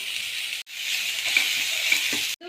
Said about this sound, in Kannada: ಎರಡು ಈರುಳ್ಳಿಯನ್ನು ಸಣ್ಣದಾಗಿ ಕಟ್ ಮಾಡ್ಕೊಂಡಿದ್ದೀನಿ ಇದನ್ನು ಹಾಕ್ಕೊಳ್ಳೋಣ ಫ್ರೈ ಮಾಡ್ಕೊಳ್ಳೋಣ